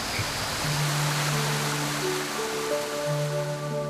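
A waterfall in Siraya National Scenic Area, where rivers cut through land between mountains and plains, pours in a continuous broadband rush of falling water, with soft sustained musical tones layered over it.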